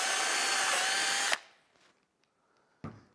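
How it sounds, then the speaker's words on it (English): A power drill bores a small hole through a plastic bottle cap, a loud steady whine lasting over a second that cuts off abruptly, followed by quiet handling clicks and a short clatter. "You take the drilling machine and you make a small hole."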